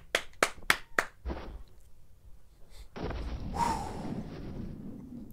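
Four sharp hand claps in quick succession, loud and close, followed by a softer fifth and then rustling background noise.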